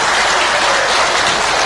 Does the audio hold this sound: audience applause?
yes